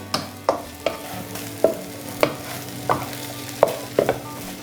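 A spoon repeatedly strikes and stirs chicken pieces in a pan for chicken puttu biriyani, crushing and mixing them in evenly spaced sharp clacks over a soft background sizzle, with no speech.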